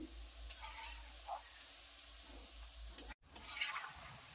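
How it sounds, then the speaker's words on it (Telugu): Peanut pakodi frying in oil while being stirred, a faint soft sizzle with occasional scraping stirs and a low steady hum underneath, quiet and close, broken by a brief dropout near the end. "ఇలా కలుపుకుంటూ ఫ్రై చేసుకోవాలండి"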